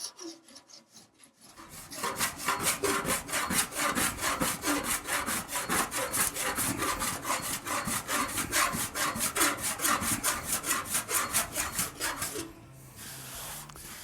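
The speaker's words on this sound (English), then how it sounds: "feather your edges back into the steel" Lead body solder being filed and feathered on a steel car body panel, a steady run of rapid rasping strokes, loud and close, starting after a short quiet lead-in and stopping abruptly near the end.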